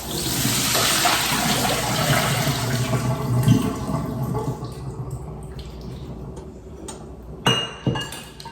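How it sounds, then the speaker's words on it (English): Water from a pot of boiled potatoes pours and splashes steadily into a sink as they are drained, with a few glassy clinks and knocks of cookware near the end. "The next thing we need to do is drain them from this water"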